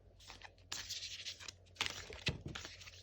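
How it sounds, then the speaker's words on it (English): An underhand shuffle of a tarot deck, heard as uneven bursts of riffling, papery card friction and soft slaps with a few sharper snaps, close and fairly quiet with no talking. "I'm not very good at underhand shuffling."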